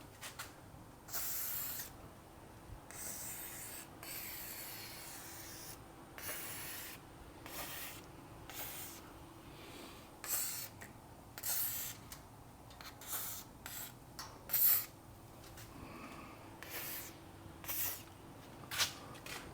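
3-IN-ONE garage door lubricant sprays from a can in a series of short, separate hissing bursts at irregular intervals, faint and close against a quiet garage background, with no talking.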